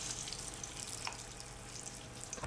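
Slit green chillies rubbed with salt fry in hot oil for vada pav, giving a soft, continuous sizzle and bubbling with faint crackles, quiet and alone.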